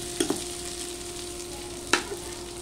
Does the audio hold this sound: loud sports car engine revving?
no